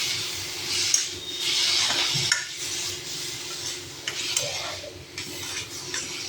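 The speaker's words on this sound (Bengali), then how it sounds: "একটু হলুদ, হালকা করে একটু ভেজে নেব" A pan holds a light fry with turmeric, giving a soft hiss under repeated spoon stirs and gentle scrapes against the metal, close and moderately loud, with no talk.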